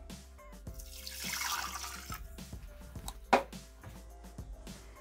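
Water pours into the mixing bowl of a Thermomix (Bimby TM6/TM5/TM31) kitchen machine, unwashed after making pesto, giving a close, splashing trickle that swells and then settles into a few drips.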